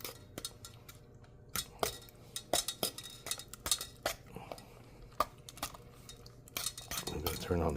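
Banana-based blueberry pancake batter is mixed in a bowl, with a utensil clinking and tapping irregularly against the sides in quick close strikes, and a faint softer stirring noise underneath.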